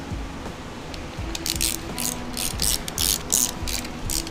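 Hand ratchet clicking in repeated strokes as bolts are tightened on the swing axle transmission of a 1961 VW Beetle ragtop, close and fairly loud with steady rhythmic bursts and no talk.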